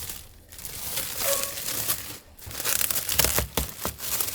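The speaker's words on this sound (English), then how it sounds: "Pulling off this covering." Protective plastic film peels off the carbon fiber display window of an Eventuri intake on a Z06, giving close crinkling, crackling and tearing sounds in uneven bursts with brief pauses.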